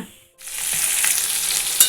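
Pointed gourd pieces fry in a pan with a loud, steady, close sizzle that starts abruptly after a brief quiet moment and continues without talk.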